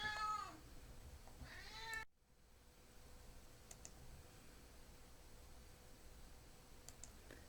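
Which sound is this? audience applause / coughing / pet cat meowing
pet cat meowing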